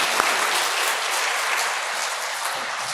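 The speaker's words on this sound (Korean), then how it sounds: "다시 한번 우리 방문해 주신 김용수 신부님께 큰 박수 부탁드립니다" A church congregation claps for a visiting priest at Sunday Mass, a loud, even burst of applause filling the space from start to finish, with one crisp clap standing out early.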